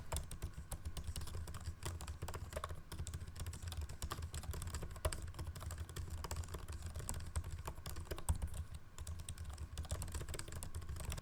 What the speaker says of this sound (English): And this is a typing test of the MacBook Pro keyboard.